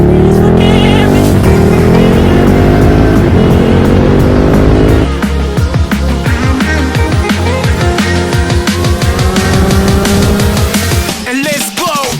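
A Triumph Thruxton RS motorcycle is ridden on a sunny March morning, its engine loud and close, droning steadily with rising revs and a clear gear change midway, then pulsing on through a continuous roar.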